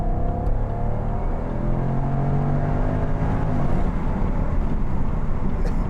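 A 2012 Jaguar XK Portfolio with a 5.0 V8 pulls away and accelerates, its engine note rising steadily and loud from inside the car, with rising tonal harmonics and a constant rumbling roar throughout.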